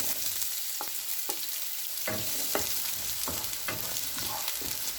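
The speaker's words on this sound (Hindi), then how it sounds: "2 से 3 मिनट तक प्याज को फ्राई करेंगे।" Onions frying in hot cooking oil in a pan, a steady close sizzle with repeated stirring scrapes across the pan at an uneven rhythm, no talk.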